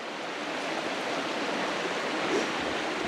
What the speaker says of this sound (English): I think we're leaving the river for a while, so I think I'll go down there and grab some water